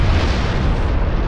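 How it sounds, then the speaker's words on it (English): Starship cruiser explosion in Star Trek Online, a loud continuous roaring blast with heavy low rumble filling the whole moment, with no voices. "Helm, take us to a safe distance for the explosion."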